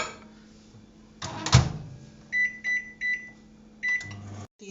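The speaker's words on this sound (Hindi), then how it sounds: "अब मैं इसको 3 मिनट के लिए हाई पावर पे" Microwave oven set to high power for drying fenugreek leaves, with a loud door clunk and then a run of short button beeps, close and clear before the steady hum starts, with no one speaking.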